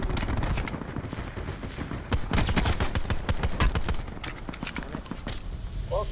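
Repeated gunshots in a shooter video game ring out in a steady, rapid rhythm of sharp cracks, close and loud, over constant background game noise.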